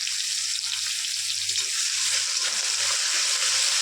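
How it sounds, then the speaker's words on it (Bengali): Chopped garlic fries in oil for a butter chicken masala, a steady, close, bright sizzling hiss with a faint low hum beneath, no talk. "ছোটো করে রাখা রসুন দিয়ে দেবো।"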